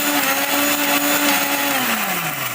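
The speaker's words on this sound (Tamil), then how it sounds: "மிக்ஸி வந்து நம்ம ஆன் பண்ணி அரைக்கும்போது" A mixie mixer grinder runs steadily for a few seconds, a loud, close motor whine holding one pitch before it begins to sag slightly toward the end, with no voices.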